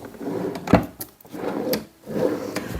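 A storage drawer on a Fokus sofa by Mamomebel slides open and shut with repeated wooden scraping strokes and a sharp knock, close and moderately loud.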